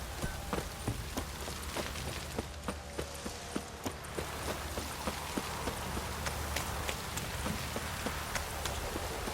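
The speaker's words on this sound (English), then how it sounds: "This downpour's a bastard, it is." Quiet, steady rain in The Witcher 3: Wild Hunt patters throughout, with scattered sharp drips and ticks falling in an uneven rhythm.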